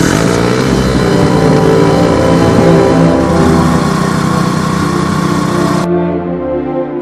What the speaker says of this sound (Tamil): இருசக்கர வாகனத்தில் உள்ள இன்ஜின் மூலம் குளத்தில் உள்ள தண்ணீரை வயல்களுக்கு உறிஞ்சும் காட்சிகள்